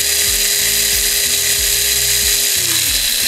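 A Xenon CDMCS1846 cordless 18V mini chainsaw with a 4-inch bar runs continuously up close, giving a high electric whine over a low, rhythmic chattering buzz that shifts slightly near the end.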